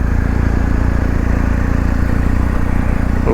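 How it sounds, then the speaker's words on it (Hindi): A BMW R1250 GS Adventure motorcycle engine idles or cruises with a loud, steady, close low rumble and an even pulsing throb that continues unchanged for the whole clip. "बाइक की रंबल सुनते हुए निकलेंगे।"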